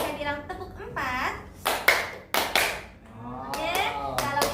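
During a classroom concentration clapping game, a sing-song voice leads into a run of children's unison claps, then more voiced chanting and another cluster of close, sharp claps.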